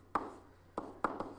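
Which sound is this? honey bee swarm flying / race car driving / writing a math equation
writing a math equation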